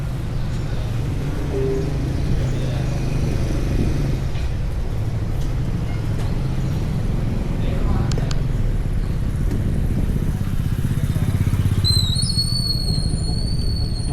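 Riding a motorcycle through the streets of Vientiane, a steady, loud engine and road-wind rumble throughout, with faint traffic sounds and a brief high whistle-like tone near the end.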